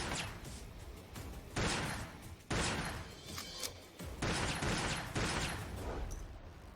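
Several loud, sharp gunfire bursts from a sniper crack and boom in separate blasts, each trailing into a harsh rumbling decay, close and with no talking.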